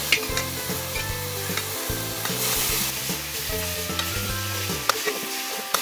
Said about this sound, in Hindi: इसको अच्छे से मिलाएंगे और जरा 1-2 मिनट के लिए इसको भूनेंगे